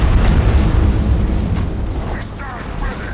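A ship explosion in the space battle game Battlefleet Gothic Armada 2: a continuous loud, rumbling boom that fills the whole clip and slowly fades, with faint talk mixed in.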